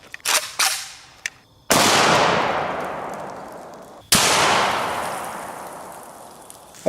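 Two loud gunshots from an AK-47 rifle firing soft-tip 7.62x39 rounds at a 380 lb Atlas stone, each crack followed by a long decaying outdoor echo, with a few lighter clicks and knocks before the first shot.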